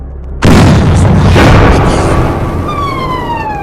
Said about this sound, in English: Loud bomb warning.